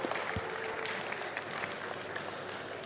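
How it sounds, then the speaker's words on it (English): An audience at a blockchain conference applauds in a steady, moderately distant wash of clapping that lasts for a few seconds. "Give him a huge round of applause."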